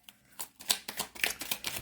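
A deck of cards being shuffled during a tarot-style reading, a series of quick riffling bursts and soft slaps at close range, fairly quiet, with no talking.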